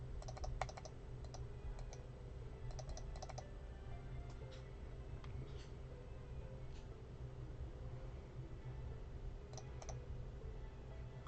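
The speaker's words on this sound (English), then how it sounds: "Furious clickety clacketying." Fast, furious computer keyboard typing and mouse clicking during a Plants vs. Zombies speedrun, bursts of close clacks over a steady low hum, with no talking.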